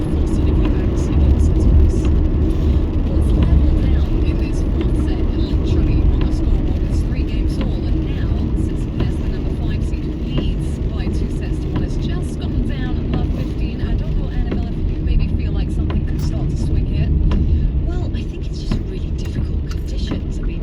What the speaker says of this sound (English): I love driving out here, it's so relaxing.